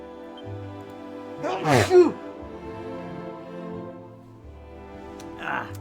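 A single sharp sneeze bursts out close by, loud against a quiet room with a low background hum, followed by soft breathing and faint sounds.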